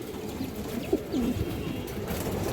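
Large pigeons kept for sale give a soft, rounded coo that swells once in the middle, set against a steady low background murmur.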